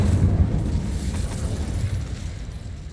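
A burst of spell fire erupts from an Incendio cast in Hogwarts Legacy, a dense low whooshing roar that swells at the start and rumbles on steadily for several seconds without fading.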